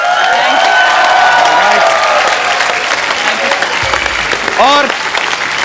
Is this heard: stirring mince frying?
no